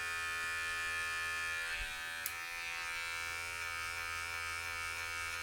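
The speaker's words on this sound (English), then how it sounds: "go back to the trimmer and flick out the rest of that line" Cheap electric hair clipper-trimmer buzzing close up during a self buzz cut, a steady, even motor hum with a brief tick partway through as it cuts along a hairline.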